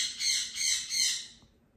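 A pet bird in a home sewing room gives three harsh, high-pitched squawks in quick succession, fairly loud and close, with no talking over them.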